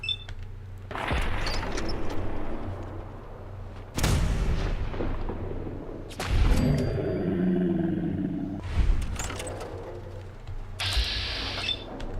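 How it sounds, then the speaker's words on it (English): Gunfire aimed at a super mutant in Fallout 4: heavy, booming shots and blasts arrive in several bursts with echoing tails, loud and close against a steady game backdrop. "you're going to shoot a super mutant"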